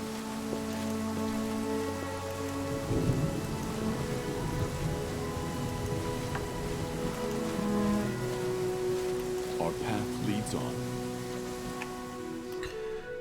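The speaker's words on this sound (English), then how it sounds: "It's quite a storm." Steady rain storm in the fantasy role-playing game Pathfinder: Kingmaker, a dense continuous wash of falling rain with music tones layered underneath and a brief spoken line partway through.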